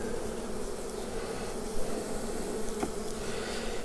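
Honeybees buzz in a steady, dense drone around an open hive during a summer inspection, close and continuous with no talking.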